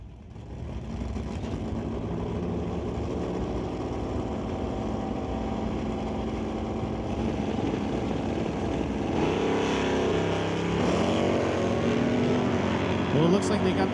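Drag race cars roar at a bracket race launch, one of them a 1979 Malibu wagon, in a sustained loud engine drone that rises in pitch near the end, while an announcer talks over it.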